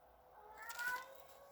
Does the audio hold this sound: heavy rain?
no